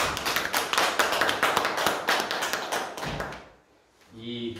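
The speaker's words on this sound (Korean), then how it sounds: "박수 좀 쳐주세요." An audience at a Buddhist dharma talk breaks into a burst of dense clapping for several seconds. It fades into a short near-silence, and then a voice speaks.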